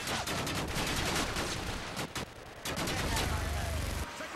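Sustained rapid gunfire from a mounted turret in Modern Warfare 2 rattles loudly and close for nearly the whole span, with only a brief gap before the burst resumes.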